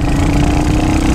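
A Royal Enfield Hunter 350 motorcycle engine thrums steadily while riding at around 40, a loud, even low-pitched drone heard close up with no talking.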